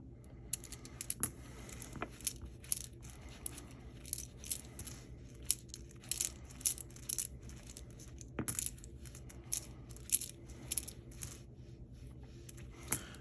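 Copper pennies from a 50-coin roll clink and tinkle as they are sorted by hand on a surface, a steady series of light metallic taps, near and fairly quiet, with no talking.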